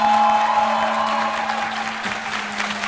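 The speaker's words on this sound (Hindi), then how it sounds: "मैं देख रही थी कुछ बच्चे आपसे सहमत थे, ऊपर बैठे हुए ताली बजा रहे थे" Applause from young audience members seated in an upper gallery at a televised debate on corruption: a steady, dense patter of many hands clapping for the whole stretch, fairly loud, with a faint constant hum beneath.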